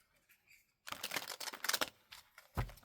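Quick riffling and flapping of playing cards being shuffled, a dense burst of crisp paper clicks after a quiet start, ending with a soft thump.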